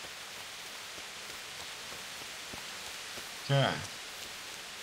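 Steady, even rain hisses across the whole scene in the medieval game Kingdom Come: Deliverance, a constant broadband wash with no breaks, and a voice speaks briefly near the end.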